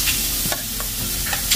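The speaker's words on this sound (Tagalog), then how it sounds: "Prito muna natin yung ating karne." Loud, close sizzling of pork belly frying in hot oil, with a few soft crackles and pops scattered through the short stretch.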